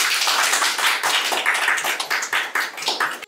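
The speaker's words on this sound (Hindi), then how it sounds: "बजाओ ताली" A group claps in a Haryanvi comedy film scene. The applause is brisk, uneven and close, with many hands beating rapidly for a few seconds and no talk over it.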